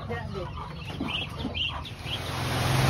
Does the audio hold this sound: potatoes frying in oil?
no